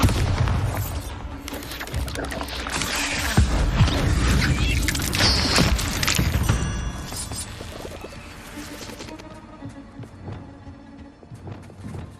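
Bombarda blasting spells from Hogwarts Legacy, cast at a cave, fire off in a dense run of loud booms and crackling impacts, then fade into quieter rumbling and debris.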